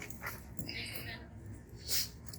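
A dog whimpers and whines in the rain, thin cries rising over a steady wet hiss, with a louder yelp near the end and voices murmuring nearby.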